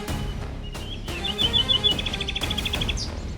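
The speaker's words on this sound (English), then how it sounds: "That's the Eurasian hoopoe, one of the strangest, loudest, and most unforgettable birds in Austria's skies." A Eurasian hoopoe calling in Austria, with a run of quick, rhythmic bird notes rising over background music and other chirps, moderately loud.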